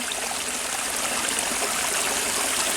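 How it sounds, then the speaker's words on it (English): A stream runs along a wooded trail in a state park, a steady close rush of flowing, trickling water with a continuous hiss and no talking. "So you see where the stream actually goes."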